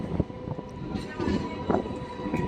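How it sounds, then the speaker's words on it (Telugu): A MEMU commuter train pulling into Pembarthi station: steady rumble and rattling with periodic clunks of the wheels, heard from on board, while a voice talks over it. "పెంబర్తి స్టేషన్కి మన ట్రైన్ చేరుకుంది"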